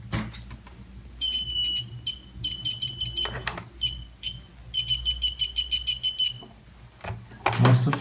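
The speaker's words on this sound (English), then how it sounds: "And also buzzer, very quick buzzer, very quick one" Quick high-pitched electronic beeps from an analog multimeter's continuity buzzer in short repeated bursts, with handling clatter and faint noise around them.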